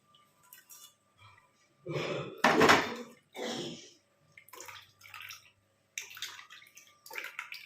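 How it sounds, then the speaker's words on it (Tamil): Boiled herbal hair dye liquid being strained and pressed through a filter into a vessel, giving bursts of sloshing, dripping water and clinks of a metal pot, close and intermittent. "இப்போ நம்ம அப்படியே இதை ஃபில்ட்ரு பண்ணி எடுத்துக்கலாம்"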